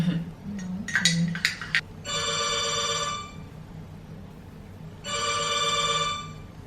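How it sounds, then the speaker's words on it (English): Some clinks and rustling, then a bathroom telephone rings twice in long electronic bursts with a pause between, fairly close over low background noise. "My toilet phone is ringing."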